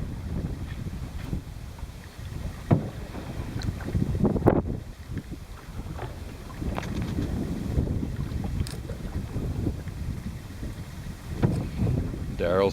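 Canoe paddled along a small creek off a lake, with water swishing and dripping from the strokes under gusty wind noise buffeting the microphone; no clear talk.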